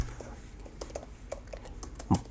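Quick keystrokes on a computer keyboard as a project name is typed, a brief patter of light clicks close up, ending in a firmer final key press.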